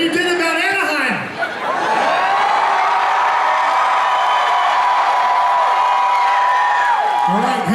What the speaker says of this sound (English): I want you to cheer louder about this announcement than you did about Anaheim